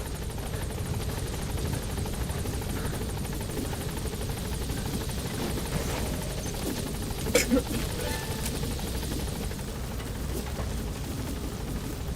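Helicopter in the video game Metal Gear Solid V, a steady close rotor and engine drone running the whole time with brief sharper bursts midway, under occasional radio-style voices.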